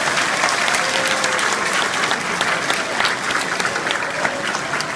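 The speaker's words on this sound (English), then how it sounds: "Can we give them a big round of applause?" An audience at a stage show gives a big round of applause, loud sustained clapping with sharp individual claps standing out and a faint murmur of voices in the crowd.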